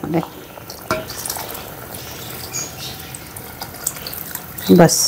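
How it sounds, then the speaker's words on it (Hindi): Yakhni stock poured into rice in a pot for Karachi-style night pulao, a soft watery pouring wash under brief speech, ending with a short clatter of the pot near the end. "तकरीबन सारी ही यखनी डल गई"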